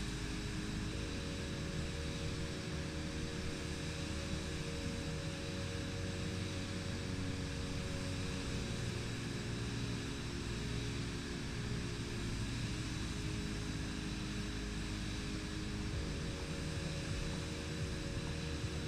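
Small training aircraft on a takeoff roll during a discovery flight, heard from inside the cabin as a loud, steady engine and propeller drone with constant wind-like noise throughout.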